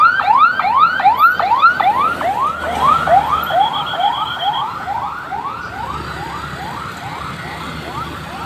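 A fire truck siren wails in rapid, repeating rising yelps at a large fire in Cikarang, loud and close, gradually fading slightly as it continues over background traffic noise.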